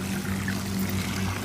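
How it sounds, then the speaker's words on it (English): Water running steadily beneath an antique Persian rug during cleaning, a dense, even rushing flow with a low hum underneath, close and uninterrupted throughout. "we'll let the water run under the carpet as well"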